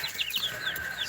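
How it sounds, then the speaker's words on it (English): Backyard chickens cluck softly, a few short chirpy calls repeating over a faint airy background, quiet and somewhat distant. "That's the chickens."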